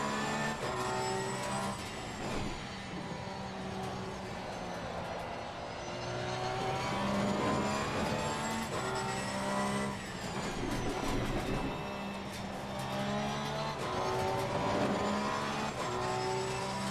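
Race cars in an Assetto Corsa Competizione multiplayer race, including an AMG, roaring continuously with engines revving, shifting and rising in pitch as cars pass close by, loud throughout with no talk.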